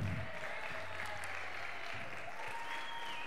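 Applause from a church congregation, steady broad clapping filling the whole stretch, loud and continuous with no voices standing out.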